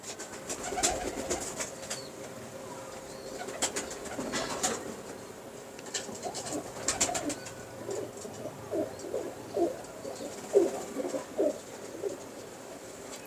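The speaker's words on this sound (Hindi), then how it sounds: "नक्शे वाला कबूतर है जी" Naqshe-wala pigeons from a prized loft coo repeatedly in soft low bursts, with occasional brief wing flaps, close by and steady throughout.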